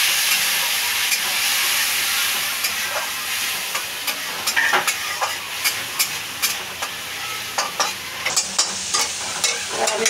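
Masala spices fry with a splash of water, making a loud, hissing sizzle that gradually settles while sharp spatula clicks and scrapes tap out an irregular rhythm against the pan.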